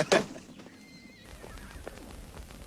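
A horse gives one loud, close neigh at the very start, then the sound falls back to quiet outdoor ambience with faint hoof and rustling sounds, in a Mongolian feature film.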